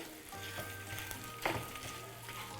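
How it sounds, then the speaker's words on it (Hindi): Whole spices, red chilli, mace, green cardamom, cloves and cinnamon, toast in a pan over a low flame, giving a faint, steady sizzle with a soft stirring scrape midway. "हल्की आंच पे इसे भूनना है लाइटली"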